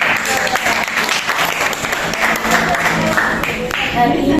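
A classroom full of people claps enthusiastically for several seconds, dense steady applause with voices mixed in.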